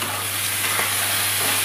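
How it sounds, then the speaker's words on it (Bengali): Shing fish coated in salt, turmeric and flour frying in a little oil, a close, continuous loud sizzle with a low steady hum beneath it. "নুন হলুদ ময়দা আর একটু তেল দিয়ে এবার হালকা করে ভেজে নেব।"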